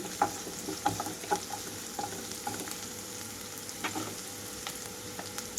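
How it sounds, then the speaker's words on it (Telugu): Onions frying in a pan with soaked chana dal and gongura leaves added, a steady close sizzle with scattered crackles and spoon stirs, no talk. "ఇప్పుడు ఇందులోనే నేను నానపెట్టుకున్న శనగపప్పు అలాగే గోంగూర కూడా వేసేసుకుంటున్నాను"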